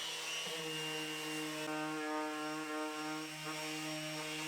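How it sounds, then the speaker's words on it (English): A random orbit sander with 120 grit works over wooden scrap-wood key and coat racks, giving a steady, even whine with a buzzing hum and one or two brief bumps as it touches the wood. "Then I sanded all of the racks at 120 grit with my random orbit sander."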